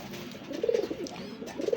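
Local-breed pigeons coo softly and repeatedly, a low rolling call swelling in the middle and again at the end over quiet background noise.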